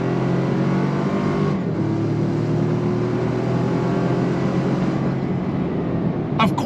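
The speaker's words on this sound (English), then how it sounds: "On throttle, here we go. 8-speed drops down and we're off to the races." A 2025 Toyota 4Runner Trailhunter with an 8-speed automatic accelerates under throttle on smooth road, heard from inside as a steady, loud engine drone with a brief shift change early on and rising road noise.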